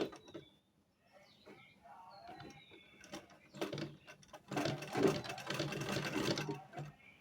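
A sewing machine stitches fabric for a baby frock, starting with short intermittent runs and then settling into a longer, louder continuous whir close by.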